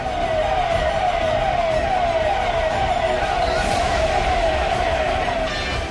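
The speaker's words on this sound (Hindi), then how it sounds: "पुलिस की गाड़ी का सायरन मातमी सन्नाटे को चीर रहा है।" A police car siren wails loudly and continuously along a quiet, deserted market street in Rajasthan, its rising and falling tone cutting through a faint crowd murmur in the background.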